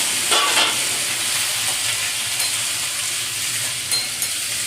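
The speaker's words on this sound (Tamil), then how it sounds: "இதில் புதினாவை வந்து கொஞ்சம் போட்டு நல்லா வதக்கிக்கணும்" Mint leaves sautéed over a high flame for mint rice: a continuous hissing sizzle with occasional scraping stir strokes, close and steady throughout.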